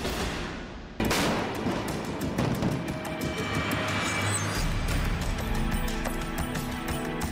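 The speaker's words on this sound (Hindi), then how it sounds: "इस लाइव फायर आर्टिलरी ड्रिल को ताइवान की सेना की 8वीं कोर कर रही है।" A Taiwanese army corps fires artillery in a live-fire drill: a sudden heavy boom hits about a second in, followed by a long rumbling wash of blast and echo that slowly fades, with no speech.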